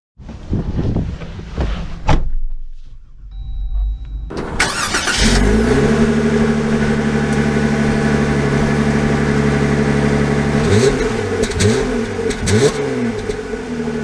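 A 2023 Jeep Wrangler High Tide engine starts after some handling noises, settles into a loud steady idle, then revs up and down several times close by.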